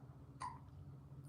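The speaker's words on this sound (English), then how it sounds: "These hiccups are adorable." A one-week-old newborn baby girl gives a single soft hiccup, close and quiet, over a faint low background hum.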